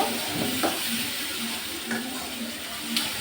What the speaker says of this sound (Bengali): তারপর একটু কষিয়ে নেব